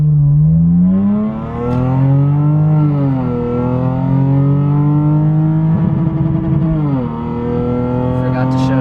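A Lexus IS300 accelerates hard while merging onto a road in Mexico, its engine pulling up through rising revs, dipping briefly at gear changes and climbing again, loud and close from inside the car.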